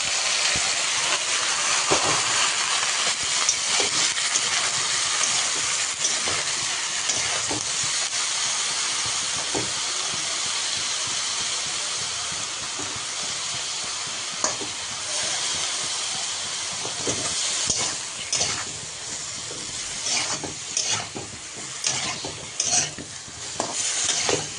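Chopped vegetables hit hot oil in a pan and fry with a loud, continuous sizzle and hiss, broken by scraping and stirring clatter toward the end.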